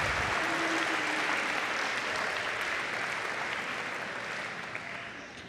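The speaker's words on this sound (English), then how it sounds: "Big round of applause to all of our recipients today." Audience applause at a high school senior awards ceremony, steady and dense clapping from a large crowd sustained throughout, fading slightly near the end.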